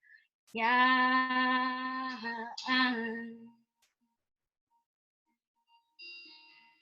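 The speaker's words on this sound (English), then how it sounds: "my phone went off with all the good jobs" A mobile phone ringtone goes off at an outdoor press-freedom rally: a loud, bright electronic melody of about three seconds with a brief break, then silence and a faint short tone near the end.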